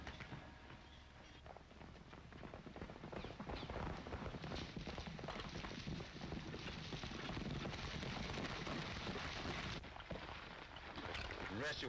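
Horses ride at a steady clip-clop through rough Western country near a mountain pass, hoofbeats mixed with rumbling movement and a dense continuous backdrop, loud and close throughout.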